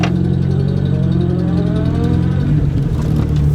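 A car that has sat unused for a long time reverses slowly up a hill, its engine holding a steady low drone that rises slightly in strain toward the end.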